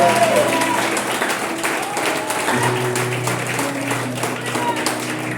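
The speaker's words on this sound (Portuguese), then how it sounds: "Você pode aplaudir o Senhor por isso." A church congregation claps and applauds continuously at fairly high volume, with a held musical tone and voices mixed underneath.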